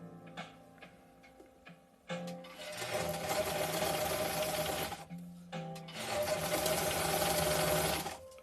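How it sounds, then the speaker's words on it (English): Domestic sewing machine stitching fabric: faint ticks, then two sustained runs of steady, rapid mechanical whirring separated by a short pause. "So now I'm just lining it up as I'm sewing and keep on going."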